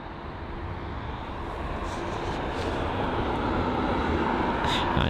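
United Boeing 777 taxiing toward runway 09 right at London Heathrow, a steady low engine rumble and whine that grows gradually louder over a few seconds, with no talk.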